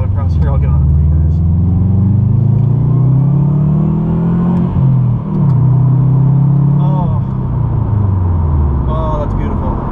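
A 2014 Subaru WRX turbocharged engine accelerating hard, close and loud, with revs climbing in sweeping rises through several gear changes and a deep rumble throughout.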